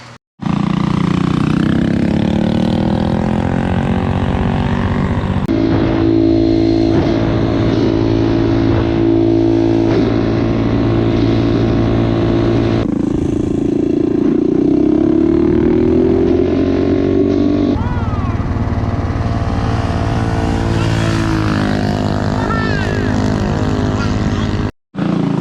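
Loud engine revving hard after a Juggernaut upgrade, the pitch climbing and falling in several sustained pulls with strong harmonic whine, close to the microphone and continuous for the whole stretch.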